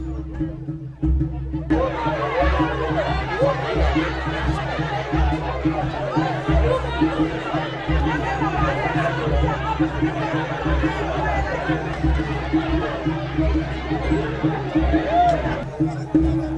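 Large gathering of needy families at an outdoor food outreach in Nigeria, a dense babble of many overlapping voices chattering continuously at close to moderate distance, steady and busy, with a low hum running underneath.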